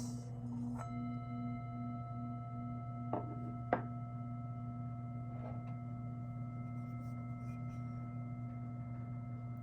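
A singing bowl hums with a soft, steady ringing drone, punctuated by a few light mallet taps; quiet and sustained throughout.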